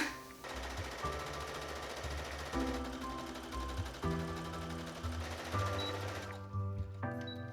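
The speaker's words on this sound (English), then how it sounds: "I'm going to take all of the ruffle layers I cut out and just sew them into one gigantic loop" A sewing machine stitching layers of ruffle fabric cut from a sheet into one large loop, running in a fast rattling drone close by, pausing briefly and restarting several times.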